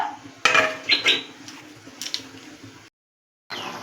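A metal lid is set over a pot of mutton curry cooking on a gas stove, giving a few close clinks and rattles of metal on metal, followed by a brief silence.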